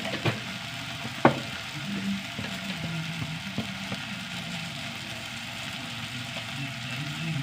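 Okra, onion and tomato sauté in a pan with a constant moderate sizzle. One sharp clank sounds early, and light stirring scrapes recur now and then.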